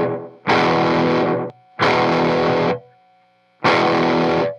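Electric guitar played through a T-Rex Reptile 2 delay pedal in three loud, sustained distorted chord bursts separated by short gaps, with faint tails trailing between them.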